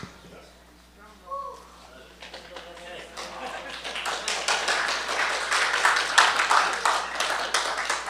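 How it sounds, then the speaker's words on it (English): Audience applause at a Chassidus in Color award ceremony swells gradually from a few scattered claps into dense, sustained clapping from a crowd, with a voice and some murmuring early on. "Why are you applauding me?"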